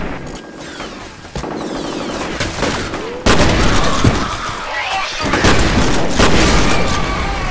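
Gunfire in F.E.A.R. Extraction Point rattles in repeated close bursts, with heavy booming hits among them, while voices talk over the shooting.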